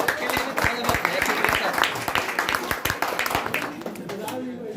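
Brisk, uneven applause from an audience at a prize distribution ceremony at a study centre in Gaya welcomes a winner, many hands clapping close by with a murmur of voices underneath.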